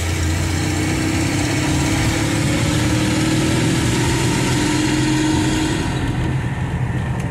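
The engine of a 1974 Ford E100 van runs at full throttle, a loud, steady, continuous roar close by that eases slightly near the end.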